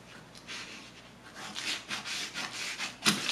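Sliced paper of a sewing pattern for a yoke skirt being cut with scissors, a soft rubbing, rasping run of snips that grows denser and louder toward the end, close up with no voices.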